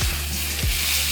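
Rib eye steak, fat side down, sizzling in a hot pan: a loud, dense, continuous hiss with faint low utensil thumps underneath.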